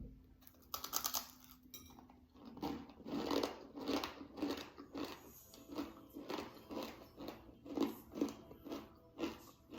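Crunchy sugared rice crackers made from scorched rice are bitten and chewed up close, a quiet run of repeated crisp crunches in a steady rhythm.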